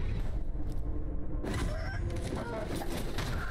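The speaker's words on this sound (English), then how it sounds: "Haven't seen a aggressive hyper Sekiro chicken for a while." An aggressive chicken or rooster in the video game Sekiro: Shadows Die Twice clucks and squawks in a few sharp, agitated bursts over continuous game background noise.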